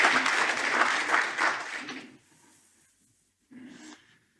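A crowd claps for about two seconds, then fades; after a short quiet gap a brief second burst of clapping follows.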